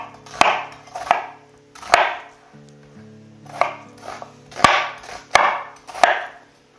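Knife chopping onion on a board: a series of sharp, close knocks, about eight in uneven rhythm, each with a brief crunchy tail, under a faint low background hum.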